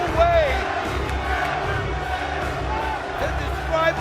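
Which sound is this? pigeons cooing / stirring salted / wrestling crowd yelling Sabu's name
wrestling crowd yelling Sabu's name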